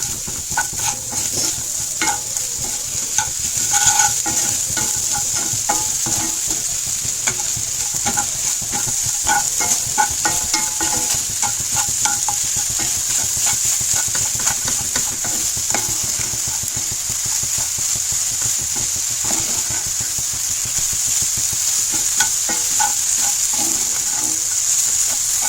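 Sugar stirred into semolina halwa (sheera) in a pan: a continuous loud sizzle with a steady scraping and stirring rhythm, close up and without a break.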